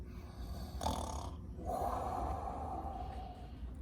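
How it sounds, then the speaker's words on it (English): Soft snoring breaths, a snort then a long drawn-out snore, quiet and close with a low rumbling background. "He rolled over on his back and snored."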